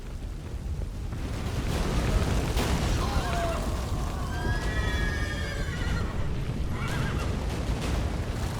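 A horse in the video game The Witcher 3: Wild Hunt whinnies over a loud, continuous rumbling backdrop, its high wavering call rising and falling a few times.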